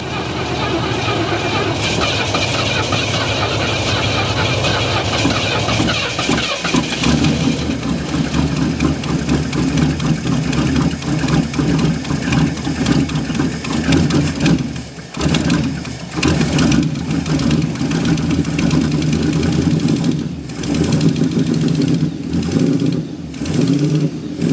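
A long-stored 1969 Ford LTD engine, dry of fuel and primed with gas, turns over and runs with a steady mid-pitched idle and occasional revs, loud and close, with people talking over it.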